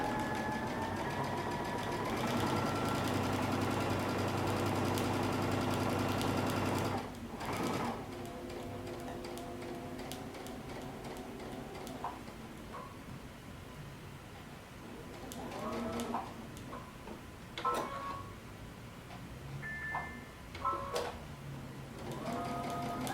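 A sewing machine stitches a coat seam at a 5/8-inch seam allowance in one steady, loud run for about seven seconds, then stops, leaving quieter handling noises and faint clicks.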